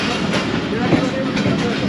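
A train rolling into the Kot Lakhpat station platform in Lahore, a close, steady rumble of wheels and carriage noise with soft rhythmic clatter, a voice murmuring faintly beneath.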